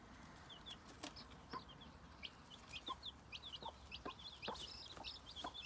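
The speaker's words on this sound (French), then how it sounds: "Les deux poulettes se partagent les poussins." Two hens sharing their chicks cluck in short repeated bursts, joined by a busy stream of high, thin chick peeps, all fairly faint and slightly distant, with a brief rustle of feathers.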